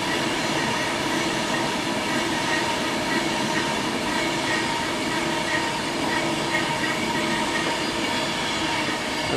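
A Class 390 electric train, unit 390119, runs past at South Hampstead heading for London Euston: a loud, continuous rushing rumble of wheels on rails for about nine seconds, with faint squeal and clatter.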